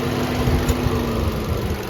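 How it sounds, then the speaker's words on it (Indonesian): A 2019 Datsun GO CVT's 1200cc three-cylinder engine idles with a rough, uneven low thrum and a faint steady whine, heard up close and continuous. "mesinnya ini 1200 3 silinder, makanya suaranya agak kasar"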